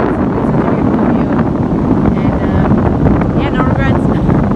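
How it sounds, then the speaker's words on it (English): Strong gusting wind buffeting the microphone on an empty surfers' beach, a loud continuous roar with a voice faintly talking underneath. "it's so windy that it's kind of making it hard to enjoy"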